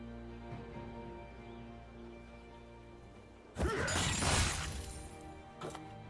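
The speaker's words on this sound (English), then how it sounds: "Red team's turret has been destroyed." A turret in League of Legends is destroyed with a sudden loud crash and shattering burst that rings out for about a second over quieter game ambience, followed by a smaller thud.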